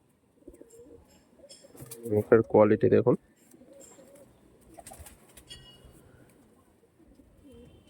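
Pigeons at a sale of flying pigeons give a short burst of throaty cooing in the middle, close and fairly loud, with faint rustling before and after while someone talks quietly nearby.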